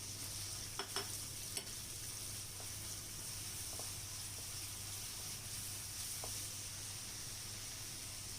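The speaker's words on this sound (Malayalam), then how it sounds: "ഓയിൽ ചൂടാവുമ്പോൾ അരിഞ്ഞു വെച്ച ഉള്ളിത്തണ്ട് ഇട്ട് കൊടുക്കുക. എന്നിട്ട് ഒരു 2 മിനിറ്റ് വഴറ്റണം." Chopped spring onion stalks sauté in hot oil as a faint, steady hiss, broken by a few light stirring taps; no voices.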